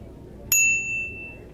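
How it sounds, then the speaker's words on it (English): Single bright ding of a bicycle bell on a 2002 Killer V500 commuter bike, struck once and ringing out with a clear, slowly fading metallic tone over quiet outdoor background. "Can we hear your bell?"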